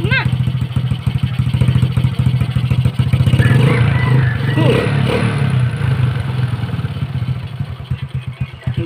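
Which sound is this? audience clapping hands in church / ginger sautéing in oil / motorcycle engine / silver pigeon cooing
motorcycle engine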